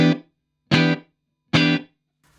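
Three short, dry, distorted electric guitar chords ring out through a Tone King Royalist MK3 amp with reverb switched off, each cut off sharply and followed by silence.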